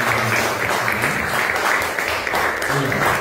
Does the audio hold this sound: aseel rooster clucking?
no